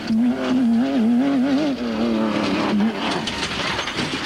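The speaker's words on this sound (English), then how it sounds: "Gary saw it a little too late and slammed on his brakes" Off-road race vehicle at the 1992 HDRA American Racing 250 in Johnson Valley, California, brakes hard after a jump. A loud, wavering engine whine cuts off partway through, leaving rougher scraping noise.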